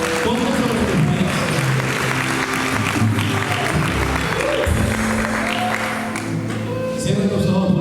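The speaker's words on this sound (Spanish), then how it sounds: "dale un aplauso a él" A church congregation claps along through worship, sustained applause layered over music and singing voices.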